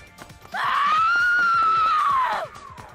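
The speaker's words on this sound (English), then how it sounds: "blood curdling scream" Loud, piercing, blood-curdling scream from the video game Danganronpa V3: a single sustained high-pitched shriek lasting about two seconds, rising at the start and dropping off at the end, over faint background music.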